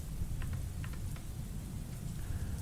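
Rain falls steadily in a stormy video game scene, a soft constant patter with a low rumbling bed and a few faint scattered ticks, no voices.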